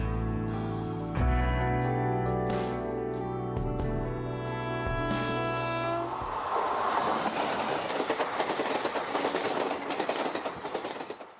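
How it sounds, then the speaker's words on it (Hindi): A train rolls toward a station platform, its deep rumble and rhythmic clickety-clack wheel beats close and loud, with tonal hum early on giving way to a dense rattling roar. "ट्रेन बस प्लेटफॉर्म से कुछ ही दूरी पर थी।"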